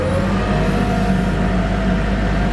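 A Skyjack VR1056E 10,000 lb electric telehandler pulls away slowly in first gear, a steady motor hum with a rising electric whine and a low drivetrain rumble, close and even throughout, with no talk.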